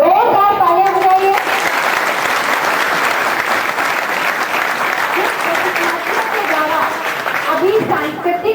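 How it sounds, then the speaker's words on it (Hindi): Loud, dense applause from a large gathering at a police passing out parade carries on steadily for several seconds, with a voice heard briefly at the start and again at the end. "जोरदार तालियां बजाइए।"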